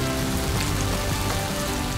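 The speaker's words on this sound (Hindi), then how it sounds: "बलूचिस्तान के मुख्तलिफ इलाकों में भी शदीद बारिश" Heavy winter rain in Balochistan pours down in a loud, continuous wash of broadband hiss with faint underlying hum and no speech.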